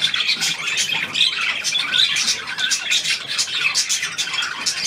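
Outdoors, a seagull squawks repeatedly in ragged, scratchy calls over several seconds, fairly near and steady in loudness with no speech on top.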